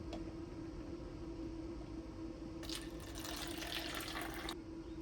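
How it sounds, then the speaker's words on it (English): Water pours from the spout of a camping water filter, a soft splashing stream that starts midway, holds for about two seconds and stops, faint over a constant low hum. "All right, let's go ahead and take a pour."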